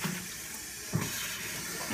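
Sudsy wash water from cleaning bullet slices pours into a screen, a short, fairly soft splashing rush with one brief heavier slosh.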